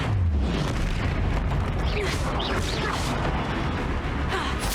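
Fiery Confringo spell blasts during a troll fight in Hogwarts Legacy: a dense, continuous rumble of booming explosions and crackling bursts, loud and sustained throughout with no talk over it.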